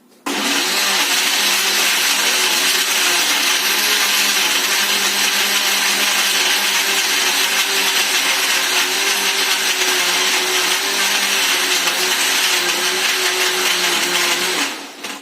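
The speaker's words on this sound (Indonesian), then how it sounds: "setelah semuanya tercolok ya teman-teman, kita nyalakan blendernya" An electric blender runs steadily, whirring loudly at a constant pitch as it purées avocado into juice, starting abruptly and cutting off near the end.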